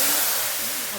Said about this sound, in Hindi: अब मैं तड़का डाल रही हूँ।